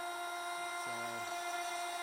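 A CNC mill with a 1/4-inch bit slowly cuts a radius on a sanding block, producing a faint, steady high whine with a low tonal hum throughout.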